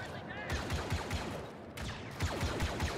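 Dense, rapid blaster-style gunfire from teammates in Star Wars Battlefront 2 crackles in quick repeated bursts, loud and close, mixed with game effects and a brief gap of quieter noise in the middle.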